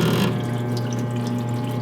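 A parts washer pump runs steadily with fluid spraying through its control valves, a constant, even liquid rush and low hum that holds at the same close, moderate level throughout with no voices.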